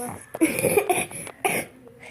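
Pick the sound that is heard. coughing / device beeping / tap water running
coughing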